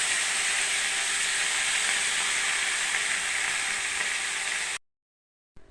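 Chopped bottle gourd and slit green chillies fry in a pan, a loud steady broadband sizzle held close for nearly five seconds before it cuts off into silence.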